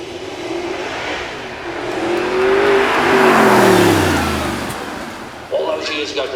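Supercars at a motor show event accelerate away together at the flag drop, a loud rising engine roar with climbing revs that builds and sweeps past, then fades as a voice talks over it.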